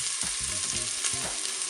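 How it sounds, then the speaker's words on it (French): Onions and a couple of garlic cloves hit hot oil in a pan for ratatouille, a dense bright crackling sizzle close up, with low scraping stirs beneath, steady throughout with no voices. "Ça y est, mon huile est chaude, je vais pouvoir mettre mes oignons"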